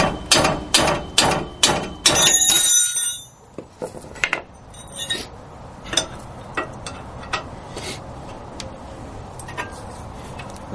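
Metal taps ring out on a wheel hub assembly, a quick run of sharp, loud strikes first, then lighter scattered taps and clicks, close and without talk.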